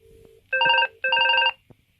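A home telephone rings in two long electronic trill bursts, close and clear, with a brief click after and no talk.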